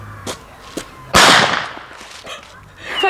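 A screw-and-bolt firecracker toy thrown to the ground goes off with one sharp, loud bang that trails into a noisy decay, with a few smaller snaps before it and voices nearby.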